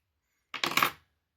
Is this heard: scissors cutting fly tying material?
yes